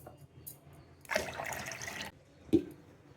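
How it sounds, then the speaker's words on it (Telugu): Water is poured into a pan of coconut milk in one steady rush lasting about a second, followed by a short clink. "వాటర్ యాడ్ చేసి"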